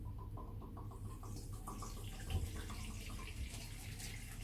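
Water poured from a fuel can through a funnel into a tank, a quiet continuous trickling gurgle with no talk.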